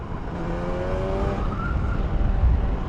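A 1988 Yamaha TDR 240 two-stroke motorcycle revs loudly and close, its engine note climbing in rising tones over a constant roar.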